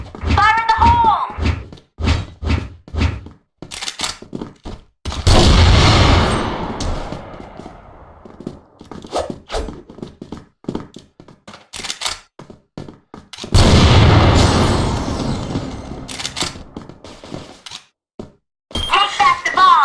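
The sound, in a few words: grenade thrown and exploding in a shooter video game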